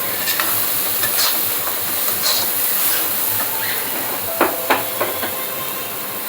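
Prawn curry sizzles and hisses steadily in a pan while being stirred, with a few louder scraping and clinking strokes of the spoon near the end; close and continuous, no talking.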